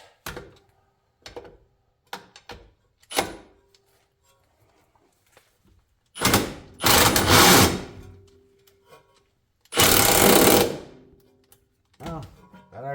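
Impact wrench working on the axle nut of a 2005 Honda Accord, firing in two long, loud buzzing bursts after several short knocks and clunks, close to the microphone with no talking.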